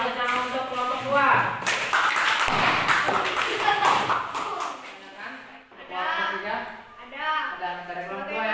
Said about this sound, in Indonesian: Beri aplaus yang untuk kelompok 2.